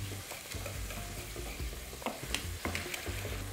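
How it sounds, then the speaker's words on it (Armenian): A spatula scrapes the walls and bottom of a frying pan of bubbling caponata sauce, with rough scraping strokes and soft clicks over a continuous low sizzle, close and fairly quiet, without speech. "Շատ կարևոր է քերել թավայի պատերը եւ հատակը"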